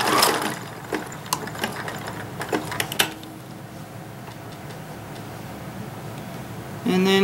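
A sewing machine stay stitching elastic onto doll panties, a short run of light mechanical ticking and whirring for a few seconds before it drops to near quiet, with a faint clunk at the end.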